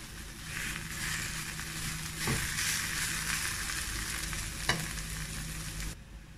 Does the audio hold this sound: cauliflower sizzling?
yes